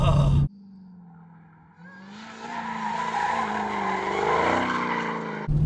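A supercharged Dodge Demon's engine builds from a low idle into a rising, loud rev with supercharger whine, close and alone, framed by brief louder bursts at start and end.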